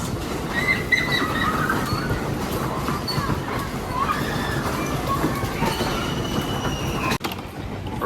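A small amusement park train at Knoebels Amusement Resort rolls along with a rumbling clatter and high squealing wheels, while voices murmur faintly in the background.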